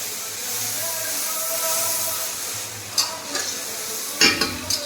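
Spice paste for a spicy chicken kosha frying in red oil with red chilli, a steady sizzle under stirring that rises to a few louder scraping bursts near the end; no one speaks.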